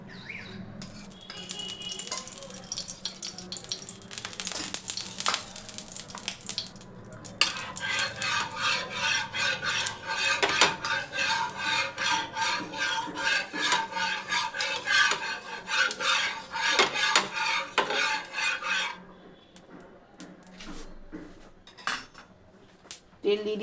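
Oil is spread across a hot tawa before dosa batter, with repeated rhythmic scraping and rubbing of a metal utensil on the pan, close and fairly loud, and a few quieter pauses.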